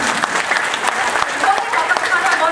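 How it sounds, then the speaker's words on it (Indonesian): Audience applause in a hall, a steady dense patter of many hands clapping at even loudness throughout, with no distinct voices standing out. "Kok nggak ada yang tepuk tangan ya?"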